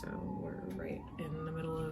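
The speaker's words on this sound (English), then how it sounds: "sorry about the sirens" A wailing siren rises and falls in pitch beneath a person talking, continuous throughout and moderately loud, like an emergency vehicle passing nearby.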